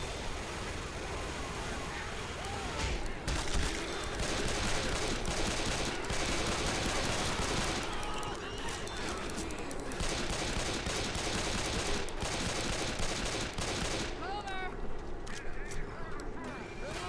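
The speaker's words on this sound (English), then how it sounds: "I went my mini gun back and forth" A minigun in a video game fires in long, dense bursts of rapid gunfire as it sweeps back and forth, loud and continuous throughout, with a voice talking over it.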